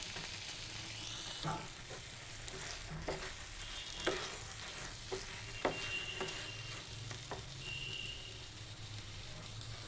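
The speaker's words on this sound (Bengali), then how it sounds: "এবার এর মধ্যে জল ঝরানো চালটা দিয়ে দিলাম" Drained rice goes into a hot pan for an ash gourd dish and is stirred and fried, making a continuous soft sizzle broken by occasional scraping clicks of the spatula, with no voices.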